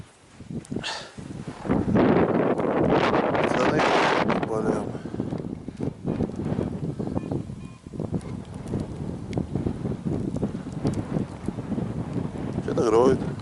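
Strong wind buffets the microphone in an open field near a village, roaring in heavy gusts and then easing into lighter rushing, with a voice heard now and then.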